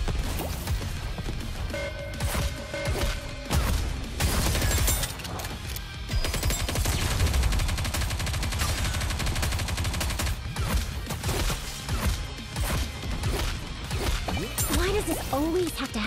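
Dense gunfire from NIKKE, with rapid machine-gun bursts and repeated shots over heavy booms and crashes, loud and constant across the whole battle, with voices shouting over it now and then.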